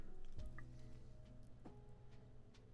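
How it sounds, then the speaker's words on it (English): Paint brush swished and rinsed in a water pot while painting a miniature, giving soft wet squishing and a few light drips close by, with no talking. "Wash the brush."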